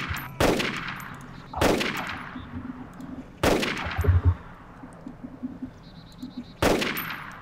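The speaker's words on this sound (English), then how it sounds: "That was me that was shooting." Five sharp, loud single gunshots in DayZ Standalone, spaced roughly a second apart with ringing echoes trailing each, and quiet ambient game sound between them.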